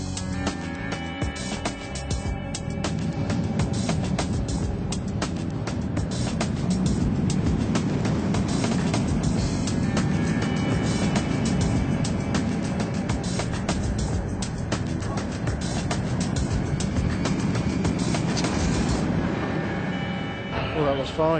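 A Flamingo Land ride train on a test run around a plywood structure rumbles and clatters continuously and loudly for the whole stretch, with no voices over it.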